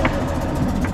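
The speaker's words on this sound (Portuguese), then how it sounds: "Tá ligando um carro desse." An old abandoned car's engine runs with a loud, steady, close rumble for about a second, with no talking.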